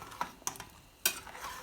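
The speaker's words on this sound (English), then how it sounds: "let's go ahead and stir this" A utensil scrapes and clinks against a pot of fideo noodles in a few quick strokes, with faint sizzling underneath and no talking.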